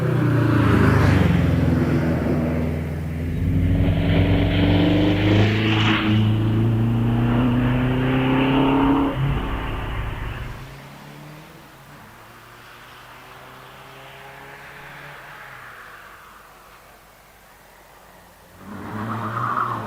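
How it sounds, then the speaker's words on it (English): Race cars climb the Prescott hillclimb course during a British Championship event, among them a Dax Rush heading through the S-bends. Engines rev hard and shift nearby for about ten seconds, then fade into a quieter distant drone before swelling again. "Chris Heritage continues his way up the hill through the S's in the Dax Rush"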